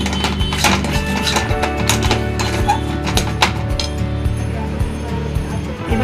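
Pea kachori filling being mixed with half a spoon of sugar, a busy run of clinks, taps and knocks from a utensil against a bowl, fairly loud and continuous with rhythmic thuds underneath.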